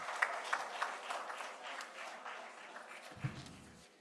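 Conference audience applauding a speaker, a soft, roomy patter of many hands that gradually fades toward the end, with a brief low thump near the close.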